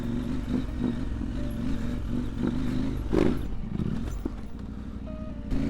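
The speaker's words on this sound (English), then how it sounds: "Let's jump this behemoth of a bikey" A heavy motorcycle cruising in second gear gives a steady, loud engine drone with some clatter and a brief surge partway through, close to the rider, with no talk.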